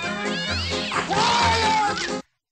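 Animated cats from The Aristocats meowing loudly in a drawn-out, caterwauling cry with a rising and falling pitch over a music bed, cutting off abruptly.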